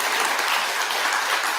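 An audience at a temple dharma talk claps together in a sustained, even burst of applause, close and loud, with no speech over it.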